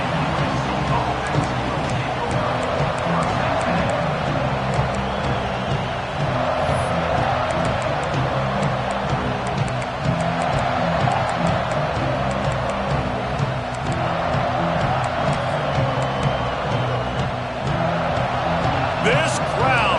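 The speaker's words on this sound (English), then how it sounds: "This crowd, full throat, splitting the eardrums" A USC vs Notre Dame football game fills the stadium with a dense, continuous crowd roar, loud and sustained throughout with scattered claps and shouts, and talk running over it.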